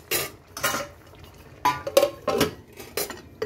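A lid goes onto a pan of ash gourd cooking with shrimp dumplings, giving a series of sharp metallic clanks and scrapes in uneven bursts, close and fairly loud, with quiet gaps between.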